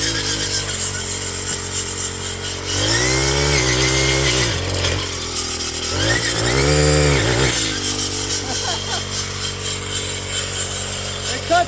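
Troy-Bilt brush cutter engine running close by, revving up in two strong surges as it cuts through honeysuckle trees, then settling back to a steady idle drone.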